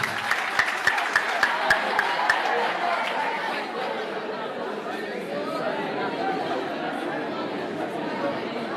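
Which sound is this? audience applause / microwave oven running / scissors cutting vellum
audience applause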